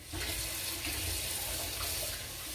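Tap water runs steadily into a plastic baggie, a continuous close splashing rush lasting a few seconds.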